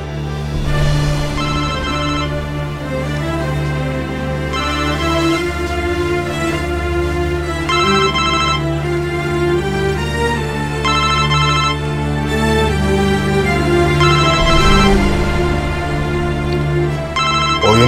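A telephone rings loudly and continuously for nearly twenty seconds in a Turkish crime drama scene, a melodic electronic ringtone repeating its pattern with no voices over it.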